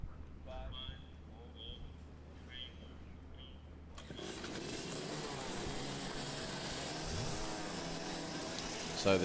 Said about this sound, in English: So the drivers fire up